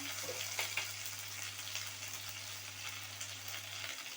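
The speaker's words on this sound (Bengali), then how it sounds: "আলুগুলো একটু লাল করে ভাজা হয়ে গেছে। এরপরে আমি একটু 1 চামচের মতো লঙ্কা বাটা দিলাম" Potatoes frying in a pan with chili paste, a faint, low, steady sizzle with a few light clicks near the start, no voices.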